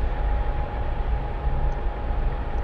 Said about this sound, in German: Ein riesenlanger Zug.